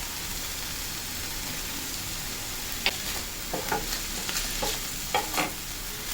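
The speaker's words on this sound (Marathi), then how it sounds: "चांगलं तेलात अशी भाजून घ्यायची." Boiled broccoli frying in oil in a pan with salt, oregano and chili flakes makes a steady, even sizzle, with a few light spatula taps and scrapes rising above it.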